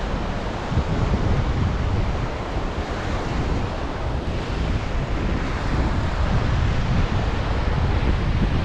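Ocean surf rolls in steadily where the Rio Grande meets the sea at the US–Mexico border, a loud, continuous roar of breaking waves with heavy wind buffeting the microphone throughout.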